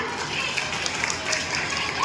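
Steady applause from a crowd in a hall at a police Hariyali Teej function, a dense wash of clapping hands that swells slightly at the very end.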